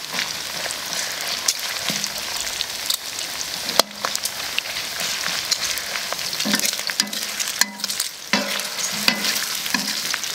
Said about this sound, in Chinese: 这豆瓣酱和豆豉呢，一定要炒出香味来。 再下入这个蒜。